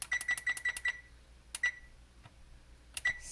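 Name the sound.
oven timer being set, beeping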